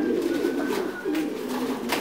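Thai Titan pigeons coo in a loft, soft repeated low throaty calls close by, steady and unbroken with no talking.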